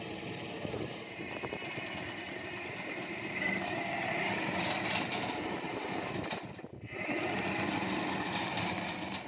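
A ground robotic vehicle's small engine runs at a steady, fairly faint buzzing drone during military training, with a brief dip partway through, no talk.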